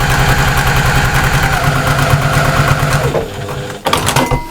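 A sewing machine stitches a fabric pouch in a fast, steady mechanical whir. It runs loud and close for about three seconds, then slows and stops, followed by a few brief clicks and handling noises.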